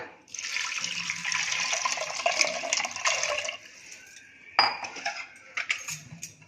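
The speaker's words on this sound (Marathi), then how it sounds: "यामध्ये पाणी घालूया." Water poured into a pressure cooker holding salt and oil, a steady splashing gush for about three seconds, then a few clinks and knocks of a lid and utensils, close and fairly loud.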